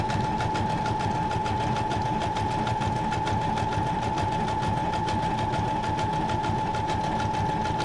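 A Brother sewing machine runs steadily with a fast, even mechanical chatter and a constant motor hum, close and continuous with no talking.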